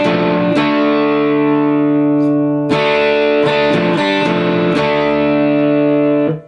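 Distorted electric guitar in drop D plays the intro riff of a song from Cyberpunk 2077, sustained heavy chords broken by sharp choppy stabs, loud and close with no voices.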